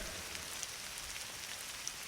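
First rain of the season falling, a faint, steady hiss of drops on surfaces with an occasional distinct drip, soft and uniform throughout.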